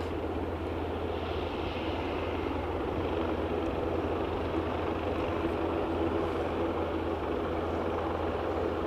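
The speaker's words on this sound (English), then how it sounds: "first fixed wing aircraft in the show. This one being a turboprop" Turboprop fixed-wing aircraft at Aberdeen heliport, a steady broadband engine drone with low rumble holding at constant loudness throughout, no voices.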